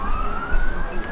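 A police car siren wails steadily at a touch-a-truck event, rising slightly in pitch, over the rumble of traffic.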